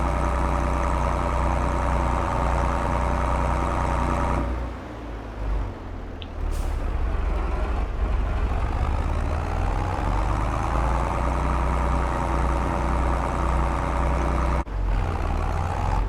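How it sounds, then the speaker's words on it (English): Old classic tractor engine in Farming Simulator 22, a steady loud drone that runs continuously, briefly dipping around a gear change or pause before resuming its even, heavy rumble. "Pretty nice old tractor for its time."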